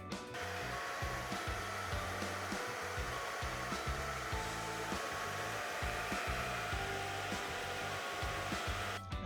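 An S9 fan on a $39 Amazon all-in-one CPU cooler whirs loudly and steadily, a close, constant rushing hum with slight fluttering pulses and no other sound.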